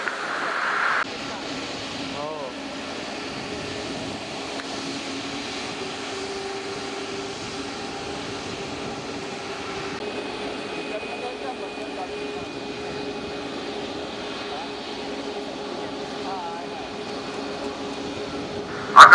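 At Mumbai Airport, an Airbus A320 jet airliner produces a continuous steady engine roar at moderate distance for the whole stretch, with a faint rising whine partway through.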